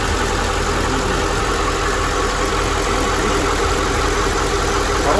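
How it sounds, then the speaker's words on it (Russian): A Mercedes M113 V8 engine, swapped into a W211 E500, idles steadily and close, a constant even rumble with a faint whine, no voices. "Хороший знакомый звук доброго М113"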